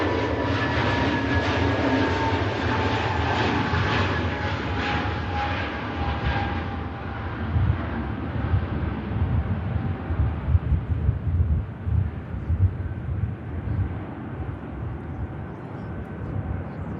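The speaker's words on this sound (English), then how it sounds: "the beautiful KLM Neo taxis over to T2 now" A KLM Neo airliner taxis toward Terminal 2 at Manchester Airport, its engine whine and broadband roar steady at a moderate distance and slowly fading, with wind noise buffeting the microphone.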